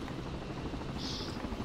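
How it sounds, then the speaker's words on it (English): A helicopter from the Project Reality video game passes overhead, a steady loud rotor rumble with continuous broadband noise through the short stretch. "yeah, the helicopter coming northeast."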